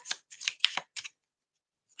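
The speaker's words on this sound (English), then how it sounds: "I'm going to shuffle these cards" Tarot cards being shuffled by hand, a few quick riffling bursts close up, then a pause and one short final flick; no talking.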